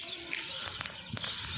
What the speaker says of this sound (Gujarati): ચકલાનો ચીંચી સાંભળો જો આ બાજુ નદી કાંઠો છે ને અહીંયા ઝાડવા છે